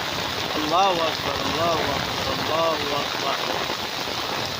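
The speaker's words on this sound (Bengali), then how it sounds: "এই দেখেন বৃষ্টির কী অবস্থা" Constant hiss of heavy rain falling on surfaces in Sylhet city, Bangladesh, during flooding, with a few faint tonal voices or calls rising briefly above the downpour.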